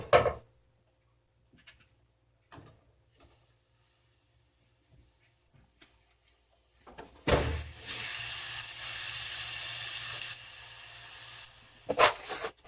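Butter steaks hit a hot oiled pan and sear with a loud, steady hiss for several seconds, framed by short clanks and bumps from the pan at either end.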